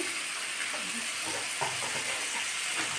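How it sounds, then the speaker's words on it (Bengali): Potatoes fry in a pan with salt and turmeric, producing a steady, hissing sizzle that stays even throughout, heard close with a faint scrape now and then. "আলুগুলো আমি ভালো করে ভেজে নেব"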